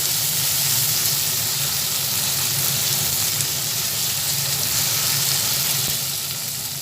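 Tomato and spices fry in hot oil for ghugni, a steady, dense sizzle that holds close and even throughout with faint stirring underneath.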